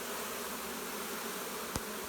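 Bees buzz in a steady, dense drone, like a hive close by, with a brief sharp click near the end.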